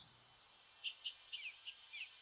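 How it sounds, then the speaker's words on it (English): Short bird chirps and tweets used as a watermark over a sample-library preview, a series of high, quick calls spaced irregularly over a faint hiss, fairly quiet and alone. "Again, the birds are just the watermark."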